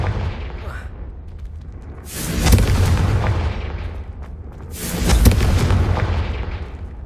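In the Hogwarts Legacy video game, two Confringo spell explosions go off a few seconds apart, each a loud booming blast with a rushing, crackling tail that fades out.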